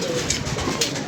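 A pigeon cooing up close, a loud, steady throaty coo filling the short moment.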